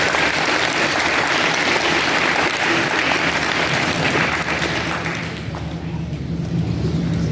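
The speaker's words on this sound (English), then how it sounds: "Give him a round of applause." An audience applauds athlete Elijah Smith at his signing ceremony, dense continuous clapping that fills the room and eases slightly toward the end.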